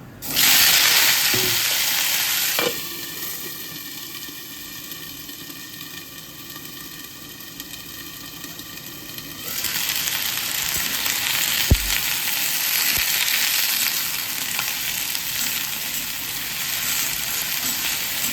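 Potatoes, green chili and black cumin hit hot oil in a pan with a loud hiss, then settle into steady close-up sizzling, with a few clinks of a utensil against the pan and a renewed surge of frying later on.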